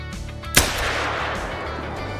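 A single rifle shot at a red deer in the hunting game Call of the Wild, set in Hirschfelden: one sharp, loud crack that then rolls away in a long, fading echo across open terrain.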